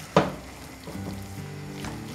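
A soft, steady sizzle of meat frying in an open pan for baked rice, with a brief clatter at the start and low background hum.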